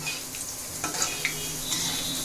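Dried red chilies fry in hot oil in a wok, a dense steady sizzle with light scraping of a utensil now and then, close and without voices.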